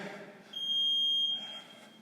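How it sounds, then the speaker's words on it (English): A workout interval timer buzzer during a bodyweight glutes and core session, a single high steady electronic tone held for under a second, clear and alone. "Make sure you go to the buzzer."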